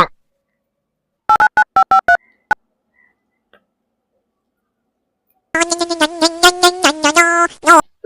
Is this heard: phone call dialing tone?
yes